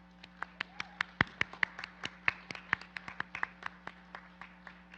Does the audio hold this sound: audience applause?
yes